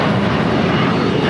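An Airbus A350-1000 airliner taxiing at LAX airport, a loud continuous engine roar with broadband rumble, close and unbroken.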